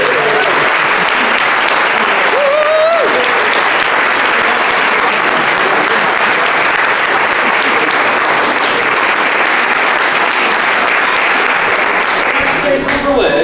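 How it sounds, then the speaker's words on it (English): Loud, sustained crowd applause rolls on without a break for the first-place winner at the Ilkeston CC Boxing Day hillclimb cycling race on Bath Street. Voices mingle faintly within the clapping. "Massive round of applause."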